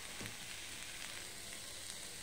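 Broad beans frying in a pan, a steady, faint hiss and sizzle with occasional small crackles throughout, no voices.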